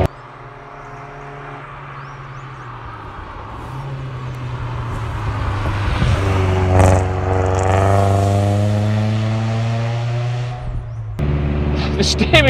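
A modified 1985 VW Golf GTI Mk2 hot hatch engine revving up through rising harmonics, loud and close from inside the car, swelling to a peak mid-clip before dropping and picking up again near the end.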